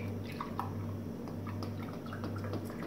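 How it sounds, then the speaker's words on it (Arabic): Milk is poured from a carton into a measuring cup while a no-bake cold dessert is being made, giving a soft, steady trickling and dripping over a low kitchen hum, with no talking. "انا راح اخذ كوبين من الحليب"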